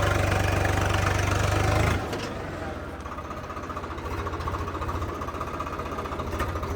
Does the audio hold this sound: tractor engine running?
yes